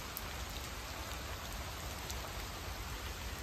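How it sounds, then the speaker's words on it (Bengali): Steady early-morning rain falls in Delhi, a dense, even hiss of drops on surfaces that stays constant and fairly close throughout, with no voices. "দিল্লিতে বৃষ্টি হচ্ছে।"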